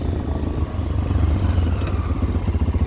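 A 2024 Tekken 250 R-line motorcycle with a 171FMM engine accelerating smoothly, a close, steady low engine drone that swells slightly and gains a pulsing throb near the end.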